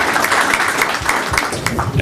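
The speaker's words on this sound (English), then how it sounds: "please give all three of our candidates a round of applause." Loud, sustained round of applause from the audience at a candidates' forum, a thick wash of many hands clapping at once without pause.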